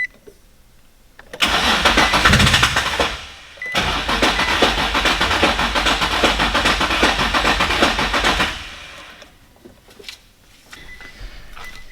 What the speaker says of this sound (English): we just pulled the fuel pump fuse to see if we could get this thing to crank over